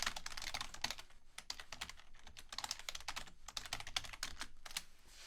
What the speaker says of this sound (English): write your question or type in your question